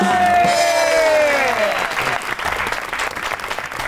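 An audience breaks into loud applause, a dense wash of clapping that continues as a held musical tone fades out at the start.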